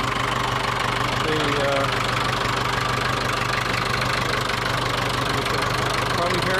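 A vehicle engine runs at a steady idle nearby, a continuous low rumble with a faint rhythmic knock, while a person talks over it.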